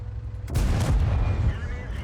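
An enemy tank cannon shot from a 263 tank destroyer in World of Tanks strikes with a sudden loud boom and a short rumbling tail, close and heavy over a low engine drone.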